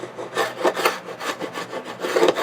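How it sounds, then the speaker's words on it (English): A scraper tool drags across old wooden beehive frames, scraping off wax in a series of repeated rasping strokes, close and fairly loud, with no talking. "Scrape the wax off of that"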